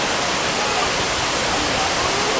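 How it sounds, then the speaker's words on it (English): Loud, steady rush of water pouring into an Erie Canal lock in Herkimer, New York, a dense unbroken roar close by. "And here comes the water"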